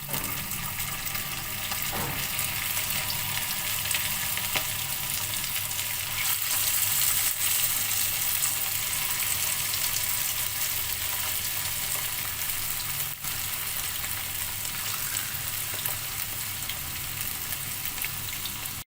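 Marinated chicken pakora pieces fry in a kadai of fully heated oil, giving a loud, steady, dense sizzle with faint crackles throughout and no talk.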